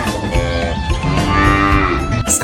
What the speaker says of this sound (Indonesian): Seekor sapi.